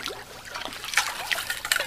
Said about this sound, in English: Get down to some sand, scrub it, rinse.